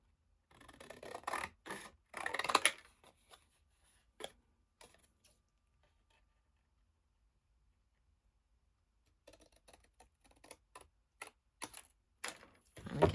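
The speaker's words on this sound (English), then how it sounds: "we'll just cut that out." Scissors snipping out a stamped card sentiment for a handmade lightbulb card, heard as bursts of close crisp cutting and rustling paper, a quiet pause in the middle, then more short snips near the mic.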